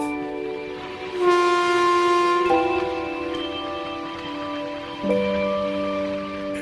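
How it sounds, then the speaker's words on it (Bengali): A train horn sounds as the train pulls away, in sustained, loud chord-like tones that shift pitch twice over several seconds, with a low rumble beneath. "আর সাথে সাথে ট্রেনও ছেড়ে দেয়"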